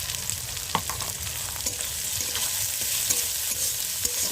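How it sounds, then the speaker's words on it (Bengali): Onions and freshwater snails fry in a pan, a steady close sizzle broken by repeated scraping stirs and knocks of the utensil against the pan, with no voices. "ভাজা ভাজা করে নিয়ে এর ভিতরে আমি গুগলিটা দিয়ে দেবো"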